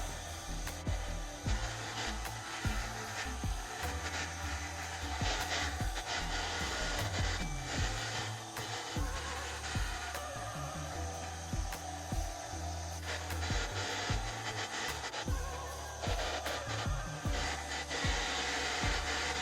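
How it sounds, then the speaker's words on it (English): A blow dryer pushes wet acrylic pour paint in metallic precious metal colours across a surface, a continuous airy whir that holds steady at close range for the whole stretch, with shifting rubbing and buzzing tones and no talk. "Now let's take our blow dryer and start to move it around a bit."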